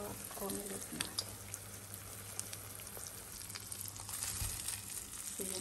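Thai minced pork omelette frying in a pan, a steady close sizzle and crackle that holds throughout with small pops, and no voices.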